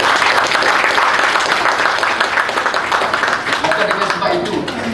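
Audience applause at a motivational talk in Malaysia, sustained and dense throughout, full and loud with no break, a hall full of people clapping together steadily for the whole stretch.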